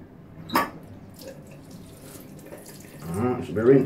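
Tap water runs steadily while a man rinses off after shaving, a soft close wash that swells louder near the end as a voice speaks over it.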